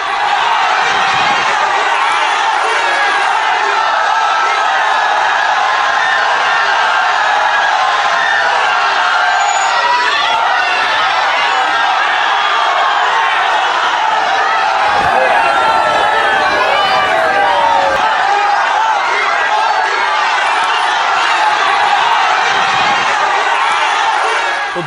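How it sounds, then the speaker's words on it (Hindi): Thousands-strong crowd packing the streets during Prime Minister Narendra Modi's road show in Barrackpore, a dense continuous roar of cheering and shouting voices, loud and unbroken throughout. "प्रधानमंत्री को देखने के लिए हजारों की भीड़ थी सड़कों पर।"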